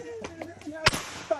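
A single firecracker goes off nearby during Perunnal festivities, making one sharp, loud bang partway through. Voices talk before and after it.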